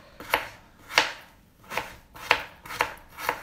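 A knife chops food on a cutting board in six evenly spaced, sharp knocks, each a crisp close thud with a brief rustle, with no talk over them.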